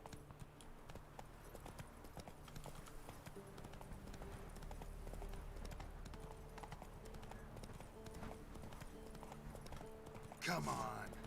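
Horse hooves clip-clop in a steady walking rhythm throughout, with people talking quietly in the background and a brief louder burst near the end.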